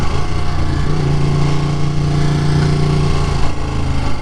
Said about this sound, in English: You just gotta love that, just the bass of this engine.